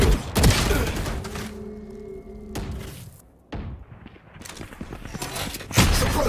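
A flashbang grenade goes off in the shooter game Valorant on the Icebox map, playing as KAY/O. It gives a ringing tonal burst amid rapid gunfire and loud thuds, with game voice lines around it.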